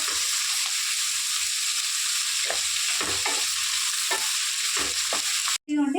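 Steady sizzling of onions frying in a pan, with a few soft scraping stirs and a brief cut near the end; no voices.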